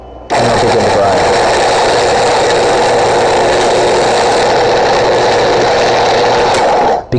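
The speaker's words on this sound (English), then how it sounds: "You'll put your handle right into the fork and you'll begin to grind." Rancilio Rocky espresso coffee grinder grinding beans, a loud, steady motor whir that starts abruptly and runs for several seconds before cutting off, close up.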